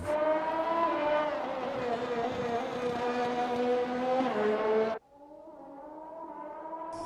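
Toy F1 race car engine sound, a loud buzzing electronic whine that holds steady and dips in pitch before cutting off abruptly, then resumes at a lower level, with no talking.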